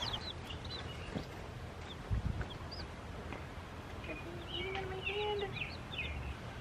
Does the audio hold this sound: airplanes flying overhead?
no